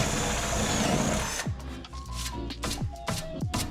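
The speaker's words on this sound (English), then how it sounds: "So now I need to drill the hole." A power drill whines steadily through a hole, then stops and restarts in several short bursts, loud and close.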